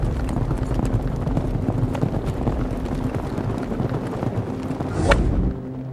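Horses gallop across a polo field in a Tang-dynasty match between the Imperial palace guards and a team of Tubo nobles. Dense, rapid hoof thuds pound continuously and loudly, swelling briefly near the end.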